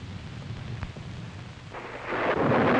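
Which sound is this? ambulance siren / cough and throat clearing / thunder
thunder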